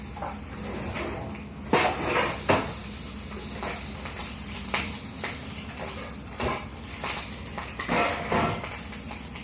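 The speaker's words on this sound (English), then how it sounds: "Okay, now we're just gonna flip it. If you could hand me a fork to flip the meat." Lunch-meat bacon fries in a pan with a constant close sizzle, while a fork scrapes and clinks against the metal during repeated flips.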